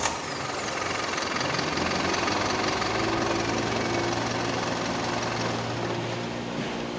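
A Mitsubishi Canter Euro 4 truck diesel engine, with a relocated ECU modification, runs steadily after starting, a loud continuous rough idle with knocking texture and steady hum, heard close up without talk.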